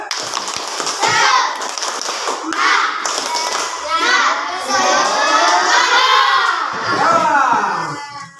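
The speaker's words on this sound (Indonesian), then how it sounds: "Oke, kita tepuk semangat dulu ya. Tepuk semangat." Schoolchildren in a classroom perform a rhythmic spirit clap, bursts of clapping mixed with loud, excited group chanting and shouting voices throughout.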